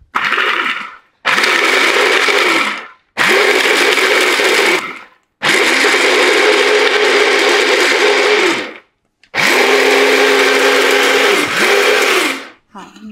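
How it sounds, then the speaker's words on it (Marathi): Mixer grinder with an attachment grinding almonds into a fine powder, loud steady whirring bursts repeated four times in short pulses with brief pauses between them. "तुम्ही मिक्सरमधून पण फिरवू शकतात ही गोष्ट."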